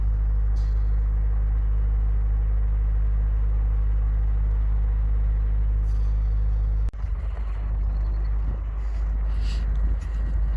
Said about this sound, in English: I could hear the generators running for all the demolition stuff.